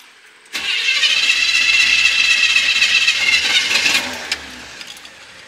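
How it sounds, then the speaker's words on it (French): A car engine on a road trip across Prince Edward Island starts abruptly and runs loud and close for about four seconds, holding a strong steady roar before easing off and fading near the end. "Accélère, accélère, accélère. Accélère un coup."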